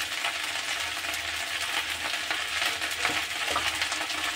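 Okra (bhindi) frying in a pan over a medium gas flame, giving a steady dense sizzle with light stirring scrapes and small crackles, heard close and with no voices.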